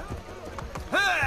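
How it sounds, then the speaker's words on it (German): Horse galloping in Assassin's Creed: Brotherhood, a rapid rhythmic run of hoofbeats up close, mixed under a voice speaking, with a brighter tonal sound joining near the end. "Komm, jetzt hier, Pferdchen, hotte Hü, hau rein."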